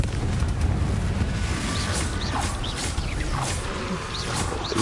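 A Confringo fire spell bursts in the video game Hogwarts Legacy, a loud, sustained rumbling blast with crackling, chirping effects layered over a low roar, and no voices.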